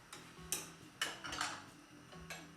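A spoon stirring butternut squash and chickpea soup in a pot: a few faint, close metallic clinks and scrapes against the pot's side, spaced about half a second apart, with no talk.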